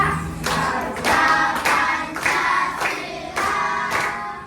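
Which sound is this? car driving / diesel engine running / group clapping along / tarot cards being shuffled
group clapping along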